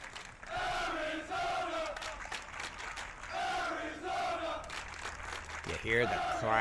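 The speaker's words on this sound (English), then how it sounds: "Hear the crowd." Crowd noise from spectators at an NCAA Division I college tennis championship match at Arizona, a loud sustained roar of cheering and shouting voices that swells in waves across the clip, with a sharper yell near the end.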